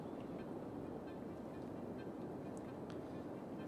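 A train arriving in the city-building game Cities Skylines, heard as a faint, continuous rail rumble and hum that stays steady, with no talking.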